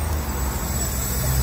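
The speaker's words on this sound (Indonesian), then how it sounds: "Kali ini yang bus yang akan saya naiki sudah datang" A city bus on route 98 pulls up to a stop outside Gwangju station, its engine a low rumble under steady roadway traffic noise that grows slightly louder toward the end.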